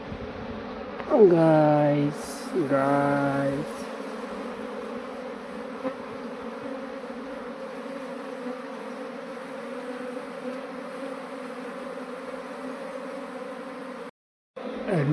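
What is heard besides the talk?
swarm of honeybees buzzing around a hive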